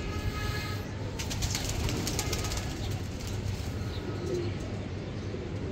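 A Teddy breed pigeon coos softly over a steady, noisy background rumble, the calls low and fairly close amid the din.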